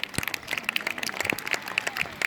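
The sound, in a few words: audience applauding Bob at soapbox race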